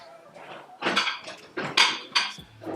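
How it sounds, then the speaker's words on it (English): Clattering of dishes and utensils as a bigger cutting board is pulled out in a home kitchen, with several sharp knocks and bumps at close range and no talking. "Let me get my bigger cutting board."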